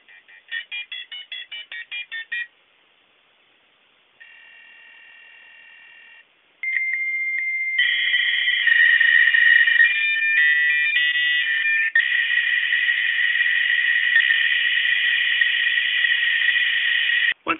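A dial-up modem on an Atari computer connects to a local computer bulletin board system: a run of dialing beeps, a pause, steady tones, then loud continuous screeching and hissing handshake noise, with no voices.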